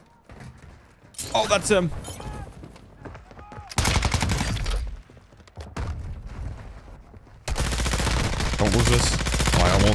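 Gunshots in the video game DMZ crackle in loud bursts between stretches of quieter play, with people talking over and between the volleys.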